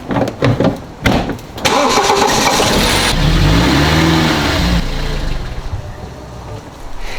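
A BMW car engine starts with a few clicks and a short crank, then catches and settles into a running idle. It is revved up for a couple of seconds, then drops back to an uneven idle, close and loud.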